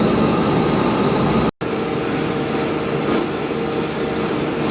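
A lathe turning a Nimonic alloy part runs as a loud, steady machine hum with a thin high whine, broken once by a brief dropout.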